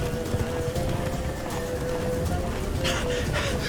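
Horse hooves trotting in The Witcher 3: Wild Hunt video game, a steady clip-clop under constant ambient game noise and music, mid-distance and moderately loud, with a few sharper hits near the end.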